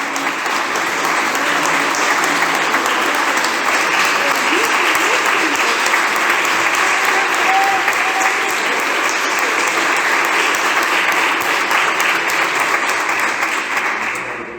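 A church congregation applauds loudly and steadily, dense sustained clapping filling the room throughout before fading slightly at the very end.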